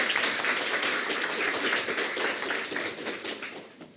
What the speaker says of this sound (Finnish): Annetaan vielä aplodit kaikille vastaajille